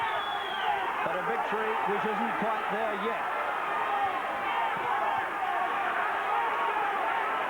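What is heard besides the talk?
boxing crowd of about 3,000 cheering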